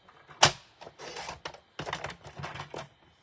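Cardstock being trimmed with a paper trimmer during card making: a sharp snap of the blade at the start, then a series of short scraping, sliding cuts and clicks, close and moderately loud, with no talking.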